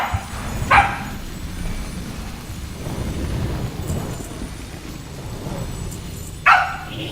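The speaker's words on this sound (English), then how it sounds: "please stop barking" A pet dog named Dahlia gives two short, sharp barks a few seconds apart, near and fairly loud over a low background rumble.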